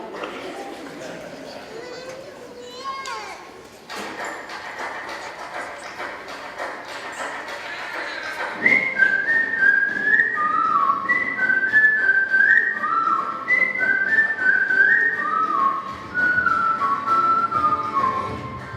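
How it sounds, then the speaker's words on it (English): A melodic whistled tune rises over a busy background of noise and murmuring, the whistling clear and fairly loud, carrying a flowing phrase for several seconds during a school chorus performance. "We need to make sure our whistling solo has his microphone on."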